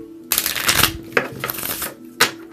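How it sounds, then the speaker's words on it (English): A sturdy deck of playing cards is shuffled close up, with three bursts of rapid riffling flutter separated by brief pauses and soft handling. "I am going to go ahead and shuffle."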